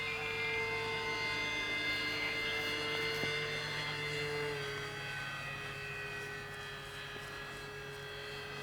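A KAVAN Norden 1600mm STOL RC plane on 4S power flies overhead, its steady electric motor whine holding continuously with layered harmonic tones and easing slightly in loudness toward the end.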